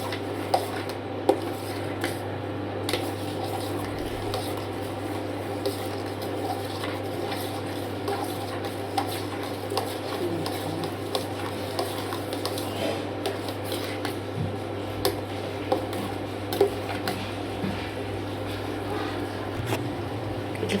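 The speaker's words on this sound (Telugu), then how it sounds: "ఇట్లా 5 minutes బాగా కలుపుతూనే ఉండాలా" Spoon scraping and clinking against a pot while ragi porridge with jaggery is stirred, steady soft rubbing with occasional metallic ticks over a constant low hum, no talking.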